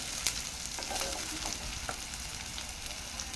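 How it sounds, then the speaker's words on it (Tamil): Onions sautéing in a pan give a soft, steady sizzle broken by light stirring scrapes and taps from a spatula, fairly quiet and without talk. "இப்போது வெங்காயத்தை வந்து வதக்கி விட்டுக்கலாம்."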